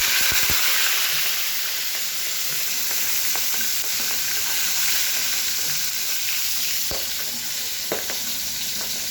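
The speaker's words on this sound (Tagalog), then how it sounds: "Ipiprito na natin ang daing na bangus" Dried milkfish (daing na bangus) fries in hot oil with a steady, dense sizzle throughout, broken by a few sharp pops and spatters, no voices.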